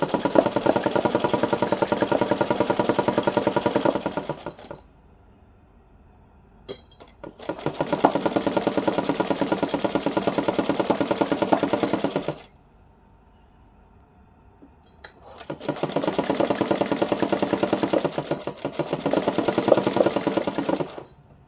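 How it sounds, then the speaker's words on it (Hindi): A sewing machine stitches gota lace onto a small dress, running in three long, loud, steady bursts separated by quiet pauses with faint clicks. "इस पे हम ये गोटा भी लगाएंगे, सिलाई के साथ साथ हम ये गोटा लगाएंगे इस पे।"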